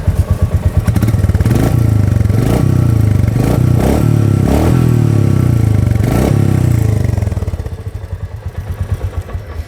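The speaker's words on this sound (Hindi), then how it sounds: "I just start the bike again and probably you can hear, I come on the other side so that you can hear clearly how the engine sounds." A Royal Enfield Meteor 350 motorcycle engine idles loud and close with a deep, rhythmic thump and a few throttle blips, then the sound drops and steadies near the end.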